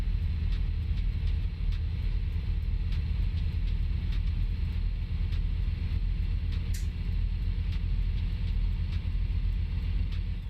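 A truck engine in the driving game American Truck Simulator rumbles as a steady, heavy low drone that stays loud and unchanging throughout, with faint clicks and no talk.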